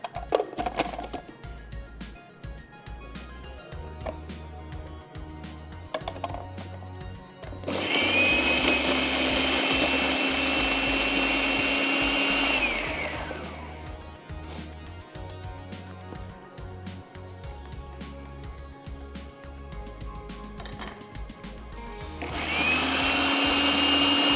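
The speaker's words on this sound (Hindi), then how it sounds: "चॉपर में डाल के या ग्राइंडर में डाल के, ये कड़ी पत्ता इसमें ये तेज़ पत्ता निकाल लें और इसको कर लें चॉप्ड" A kitchen grinder blitzing curry leaves into paste, a loud steady electric whir that runs for several seconds, stops, and starts again over a continuous background hum.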